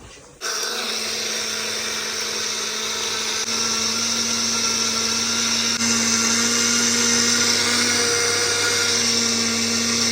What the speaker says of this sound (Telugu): సో సెట్ అయిపోయింది ఇంకా మిక్సీ పట్టేసుకోవడమే